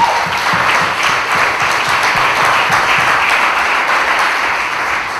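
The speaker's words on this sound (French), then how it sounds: "Est-ce qu'on peut acclamer Jésus très fort?" Congregation at a church service in Abidjan applauding and cheering for Jesus, a steady loud wash of clapping hands with crowd voices, sustained without a break for the whole stretch.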